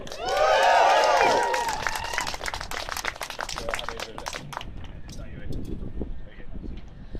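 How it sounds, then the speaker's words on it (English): A rally crowd cheers and claps for a speaker being introduced, loud whoops and voices peaking in the first couple of seconds, then thinning to scattered clapping and chatter. "Can we give her a cheer?"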